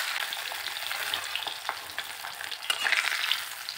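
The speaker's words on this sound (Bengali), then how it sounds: "মাছগুলো একটা সাইজ দিয়ে উল্টিয়ে নিচ্ছি, দেখো হালকা করে দুটো সাইড ভেজে নিলাম" Hilsa fish pieces sizzling in hot oil, a steady bright crackle with scattered sharp pops close by, no voices.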